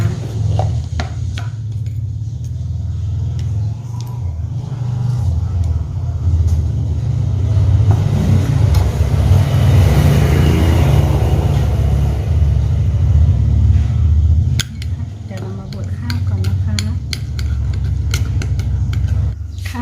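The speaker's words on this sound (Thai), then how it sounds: "เดี๋ยวเรามาบดข้าวกันเลยนะคะ" Dry rice being ground for a homemade face mask, a steady loud rumbling churn that swells in the middle and briefly drops before resuming, with no talking.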